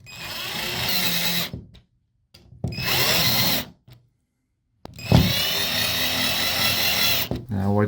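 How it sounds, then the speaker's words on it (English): A power drill whines in three loud bursts separated by short silences, the motor revving as screws are driven in while fixing a towel rack. "And then we get our drill."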